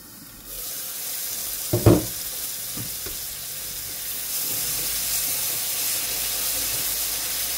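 Beef tripe masala sizzles steadily in hot oil in a pan, with a brief clatter of stirring near the start and a constant frying hiss that grows slightly louder as it continues.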